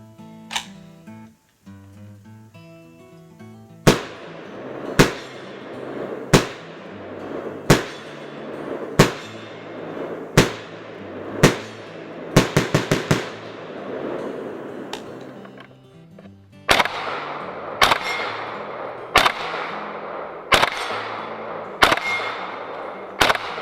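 Shots from a PAP M92 rifle fitted with a Midwest Industries flash hider, a dozen loud sharp cracks that each ring out briefly. They come spaced apart, with one quick burst of several shots near the middle.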